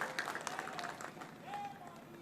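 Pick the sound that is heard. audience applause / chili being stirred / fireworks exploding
audience applause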